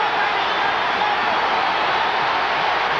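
A boxing crowd during a heavyweight bout cheers in a steady, dense roar, a broad wash of voices holding at constant loudness for a few seconds.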